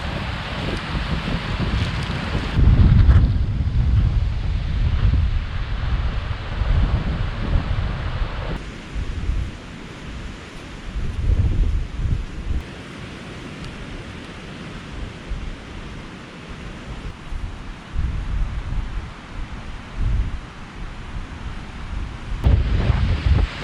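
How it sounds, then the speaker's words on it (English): Strong storm wind roars and buffets the microphone in heavy gusts out in an open field, rising and falling with no one speaking. "It is incredibly windy out there in the field."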